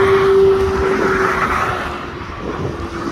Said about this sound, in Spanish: el zumbido de las hélices del helicóptero